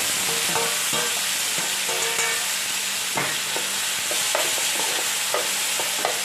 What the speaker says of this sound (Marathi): छान असे कडक होईपर्यंत परतून घ्यायचे